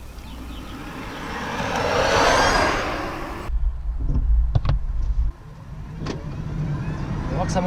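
A 2014 Smart Electric Drive electric car accelerating in a quiet spot, a rising broadband road and motor rush building over several seconds, then giving way to cabin sounds with faint talk.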